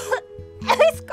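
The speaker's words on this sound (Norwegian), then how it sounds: "jeg hoster og er forkjølet" Cough from someone with a cold in an animated children's show, a few short harsh bursts with a low hum underneath, close and fairly loud.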